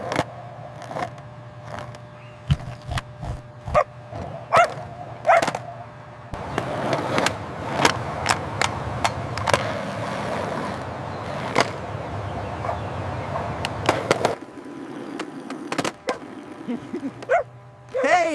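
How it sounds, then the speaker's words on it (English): A dog rides a skateboard in a cartoon skate contest, with repeated sharp barks scattered through the scene over a steady rolling rumble, busy and close, with occasional voices. "Look at him go! A dog on a board!"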